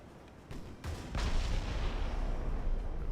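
Warship guns fire in the naval game Ultimate Admiral Dreadnoughts, a few heavy booms followed by a sustained rumbling barrage that swells and holds, loud and without voices.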